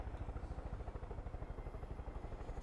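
Helicopter in a military video game, a steady rapid rotor chop with engine whine, loud and continuous throughout.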